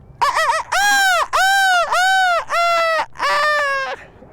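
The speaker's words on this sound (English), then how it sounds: "hearing the sounds of these seagulls" Seagulls by a river on a sunny day, a series of loud, close, harsh nasal calls, about six long strident cries in a row with brief gaps between them.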